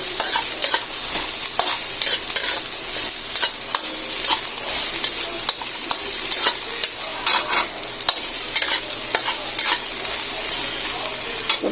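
Ginger frying in a small amount of oil for chicken tinola, with a steady sizzle under repeated close scraping and clacking of a spatula stirring in the pan, no talking.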